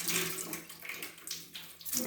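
Water pours from a toilet inlet pipe into a bucket set below as a catchment, a steady soft splashing rush that stays fairly quiet and continuous with no talking.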